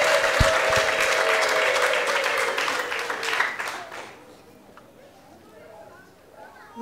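A wedding crowd claps loudly and continuously at first, the applause thinning and fading after a few seconds while a voice speaks over it through an amplified sound system.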